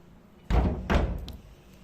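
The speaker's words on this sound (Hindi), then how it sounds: "बंद कर देते हैं इनको हम दरवाज़ा दोबारा से" A door is pushed shut in a home, giving two quick, solid thuds close by that fade into quiet room tone.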